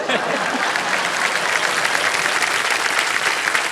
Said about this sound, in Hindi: कौन बजाया ताली?